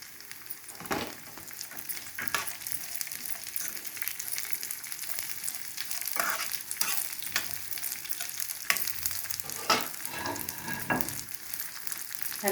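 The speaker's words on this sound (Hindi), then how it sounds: "हल्का ही हमको इनको रोस्ट करना है, ज़्यादा जलाना नहीं है।" Poppy seeds and raisins roasting in ghee in a pan for churma ladoo: a continuous close sizzle with frequent scraping stirs of a spoon throughout.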